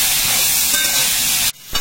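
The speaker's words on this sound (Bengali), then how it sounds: "এবারে এইগুলো একটু ভেজে নেব" Potatoes and shrimp with turmeric and salt fry in a pan, giving a loud, steady broadband sizzle that drops away briefly near the end before returning.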